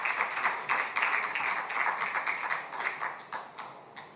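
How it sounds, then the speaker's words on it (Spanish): Audience clapping for a speaker at an assembly of local and regional political leaders, a light, fairly faint patter of applause with uneven, overlapping claps throughout. "Uma salva de palmas,"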